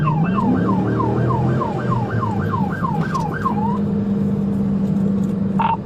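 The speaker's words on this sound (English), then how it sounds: "Deputy Meeks activated his lights and sirens to initiate a traffic stop." A police car siren sounds during a traffic stop, repeated rising-and-falling wails in quick rhythm over a low vehicle engine rumble, fairly close and loud before stopping abruptly.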